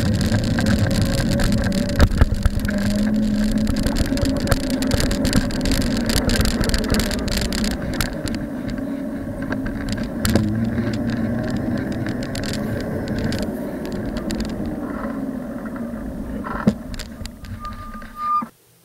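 An old mountain bike fitted with a 1000-watt electric conversion kit rides along, its motor and drivetrain giving a continuous mid-low whir and rattle with clicks and bumps, fairly close, before cutting out at the end.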